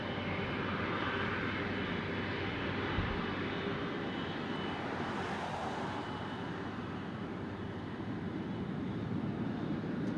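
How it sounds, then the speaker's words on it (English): A Sri Lankan Airlines Airbus A330 bound for Colombo departs from an airport, its jet engines a broad, steady roar heard from a distance that swells slightly midway and holds throughout. "straight in front of us is a Sri Lankan Airbus A330 bound for Colombo."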